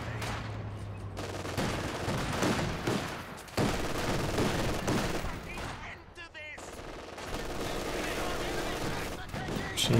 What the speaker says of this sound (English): Machine gun cover battle there.